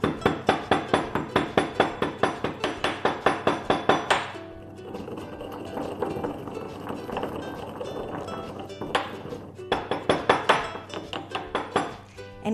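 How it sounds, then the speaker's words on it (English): Cardamom pods are pounded in a mortar for idli batter: a quick run of sharp, evenly spaced knocks, then a gentler grinding stretch, then another burst of pounding strokes, close and clear. "I'm just gonna pound it up now."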